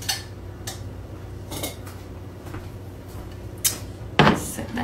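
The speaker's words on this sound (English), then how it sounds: "So let me grab my dish." A casserole dish picked up and set down in a home kitchen, with a few light clinks and taps spread out, ending in a sharper ceramic knock.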